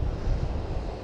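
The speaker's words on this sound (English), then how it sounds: "And the waves are just beautiful." Sea waves wash along the coast of the Wales Coastal Path between Stackpole and Tenby, a low continuous rumble mixed with wind buffeting the microphone, with no speech.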